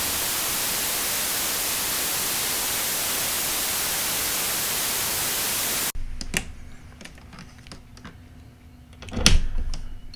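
A synthesizer noise source puts out steady, loud white noise for about six seconds and then cuts off abruptly. Faint clicks and handling knocks follow in a quieter room.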